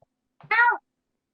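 A single short meow from a house cat, close and clear in a quiet room, lasting under half a second.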